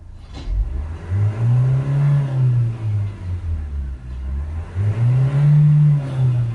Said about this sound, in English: Let's give it a rev up and down now, see if it looks any different.